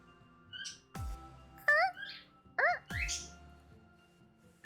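A noisy baby bird, heard during a Final Fantasy XIV play session, gives several short chirps and squawks in quick bursts, close and clear, over a quiet background with low knocks between calls.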